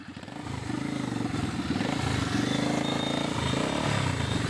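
A motor vehicle driven fast, with a loud, steady engine drone and rhythmic rattling close by that stays strong throughout and carries no speech.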